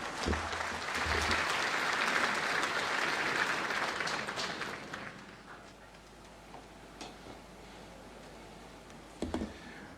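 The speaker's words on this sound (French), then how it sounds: "une fois de plus d'applaudissements pour le directeur régional de l'OMS pour l'Afrique" Audience applause at a national forum on health financing, a dense, steady burst of clapping from a large crowd that fades after about five seconds, leaving quiet room tone and a few scattered claps.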